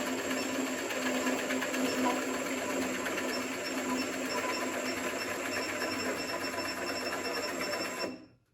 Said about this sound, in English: Then literally plunge the bit down.